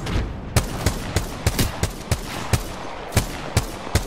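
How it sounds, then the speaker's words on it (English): Gunfire in Apex Legends comes as a rapid, uneven string of about a dozen sharp shots over four seconds. Some come in quick pairs or bursts, loud and close, with no voices. "Getting shot at from over here."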